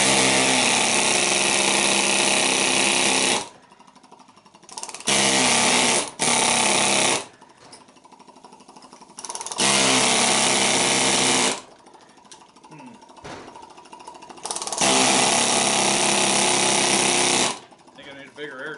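Pneumatic air chisel hammering into a large electric motor being scrapped for copper, loud rapid chattering bursts in several long runs separated by pauses with quieter shop noise.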